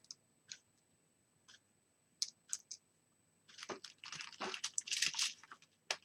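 Plastic sequin cups sealed with tape are handled close up, giving scattered crinkly clicks, then a denser burst of crunching and rattling plastic.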